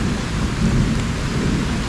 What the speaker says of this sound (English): but it is pouring the rain out here.